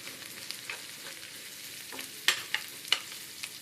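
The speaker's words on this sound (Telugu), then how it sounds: "ఎర్రగడ్డలు చూడండి, బాగా వాడుకోవాలి." Quiet, steady sizzle of onions frying in a pan, with a few soft stirring clicks and scrapes scattered through.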